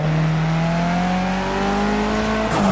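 Rally car engine in a racing video game, a loud sustained high-revving drone with steady pitch climbing slightly, close and continuous, with a brief shift near the end.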